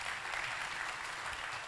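Audience applause at a Lisbon forum panel, a steady wash of many hands clapping at moderate distance, filling the short stretch without pause.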